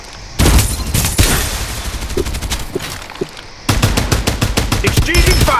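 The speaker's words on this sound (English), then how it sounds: "Exchanging fire." Loud rapid automatic gunfire from the video game Farlight 84 crackles in two long bursts, separated by a brief pause, each a fast, evenly spaced string of sharp shots.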